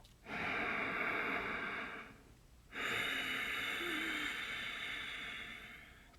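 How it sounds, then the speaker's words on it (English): Ujjayi whisper breath drawn through the nose, two long, close, airy breaths with a soft throaty rasp, each lasting about two to three seconds and separated by a short pause, performed alone without speech. "So whisper breath sounds like this."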